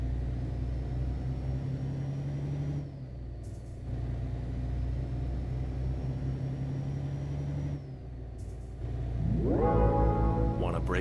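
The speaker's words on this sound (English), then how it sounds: "I am liking the sound of this truck" A truck engine in Euro Truck Simulator 2 drones steadily at low pitch, cutting out briefly twice as if shifting gears, then rising and revving near the end.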